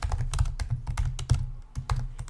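Fingers tap out a product code on a computer keyboard, with quick, close, uneven keystrokes in a steady burst, a short pause, then more typing.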